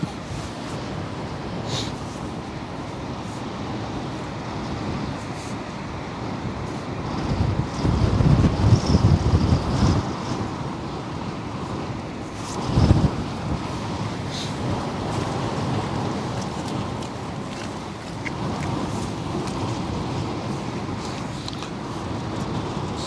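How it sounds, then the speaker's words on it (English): Strong wind at the Westerschelde waterfront, a loud, continuous roar buffeting the microphone with heavier gusts partway through and a faint background of water and passing ships. "People were getting hammered by the wind."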